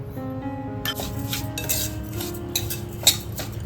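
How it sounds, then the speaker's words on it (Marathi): Wheat lapsi being roasted in ghee in a pan, with a spoon scraping and clinking against the metal over a low steady hum, one sharper clink near the end; close and moderately loud, no talking. "आता ह्याच्यामध्ये आपण घी घालणार आहोत आणि घीमध्ये ही लापशी चांगली भाजून घ्यायची"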